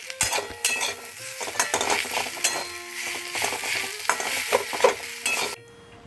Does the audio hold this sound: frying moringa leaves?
yes